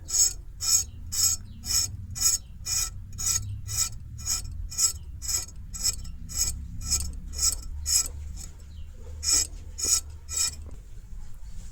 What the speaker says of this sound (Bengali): পটলটা ওরকম করে কাটলিম, ওরকম করে কাটিছি।